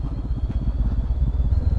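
A big motorcycle climbing a steep mountain road between Atok and Kabayan in the Philippines, its engine giving a deep, throbbing low rumble that pulses steadily and stays close throughout.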